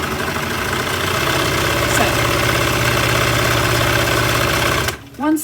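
A sewing machine running steadily while stitching a seam with blue thread, a continuous close mechanical whir that stops abruptly near the end, followed by a brief voice.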